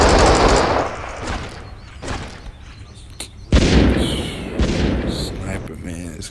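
Video game shooter battle with bursts of gunfire, sharp loud shots and rapid volleys in irregular clusters, mixed with booming impacts and short stretches of quieter background.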